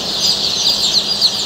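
Tiger chicken chicks peep together in a brisk, high, repeated chorus of close chirps, with no voices over them.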